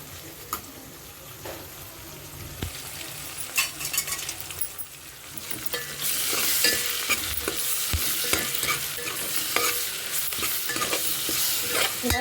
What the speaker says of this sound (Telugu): ఇలా కలుపుకొని మసాలా పచ్చివాసన పోయే వరకు దీన్ని ఇలా ఫ్రై చేయాలండి.